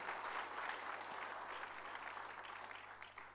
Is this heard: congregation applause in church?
yes